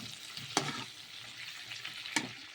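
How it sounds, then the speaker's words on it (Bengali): Pieces of pointed gourd (potol) fry slowly over low gas, making a gentle, close sizzle punctuated by two sharp stirring clicks against the pan. "এখানে পটলগুলোকে ভাজছি পটলটা ভাজতে খুব টাইম লাগে এই জন্য গ্যাসটা কমিয়ে আস্তে আস্তে করে ভাজছি"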